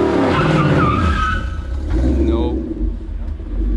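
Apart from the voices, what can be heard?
Ford Mustang GT burnout, both rear tires spinning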